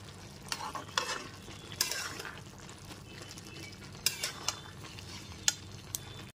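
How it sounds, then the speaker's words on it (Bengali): A spatula stirs bottle gourd in a pan, where the gourd has released its own water. Intermittent scraping and clattering strokes sound close and moderately loud, with a soft wet background and no talking. "খুন্তিটা দিয়ে ওপর থেকে নিচে খুব ভালো মতো নেড়ে নেওয়ার পর"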